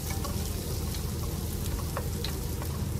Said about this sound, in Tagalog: Gisahin lang natin yung sibuyas sa kunting mantika lang.